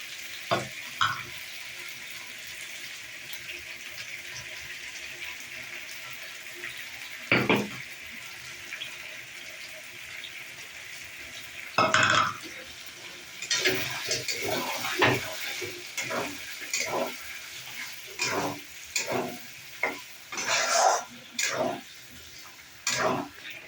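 Chicken braises in oil in a pan with spinach paste, a low steady sizzle punctuated by sharp scraping and stirring clatters that grow more frequent toward the end, close by with no talk.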